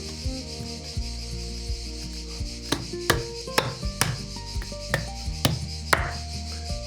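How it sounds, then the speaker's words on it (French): A hammer taps on screws set in a wooden rafter, giving a series of about eight sharp, close knocks that come faster toward the end over a steady low background hum. "mon marteau, et je vais taper dessus pour faire des marques"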